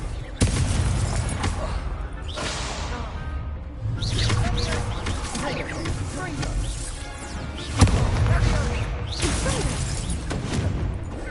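In the game Hogwarts Legacy, a Confringo fire spell goes off with a series of booming explosive bursts and crackling impacts over steady game noise, with a sharp blast near the end.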